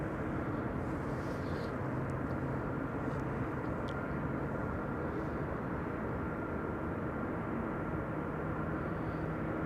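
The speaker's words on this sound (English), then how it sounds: "That is a KLM Dreamliner arriving from Austin in Texas." A KLM Boeing 787 Dreamliner arriving from Austin, Texas, at Amsterdam Schiphol gives a faint, steady distant jet hum, a soft continuous rumble with no talk over it.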